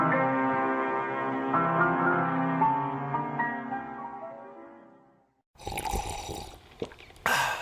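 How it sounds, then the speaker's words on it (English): Coffee poured into a cup and then sipped in a radio advert: a bright, ringing pour with a clear tone that fades out, a brief pause, then a few close slurping sips and clinks. "That's not just the sound of that first sip of Morning Joe."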